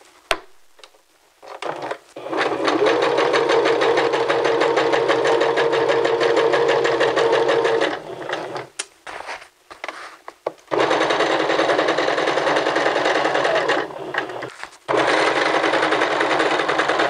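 A sewing machine stitches along a dart fold on a men's vest, humming loudly and close in long steady runs broken by a few short stops.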